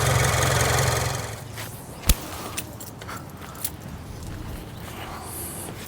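A Subaru BRZ/GR86 boxer engine idles after an oil change, a steady low rumbling chug with a couple of sharp clicks and knocks nearby.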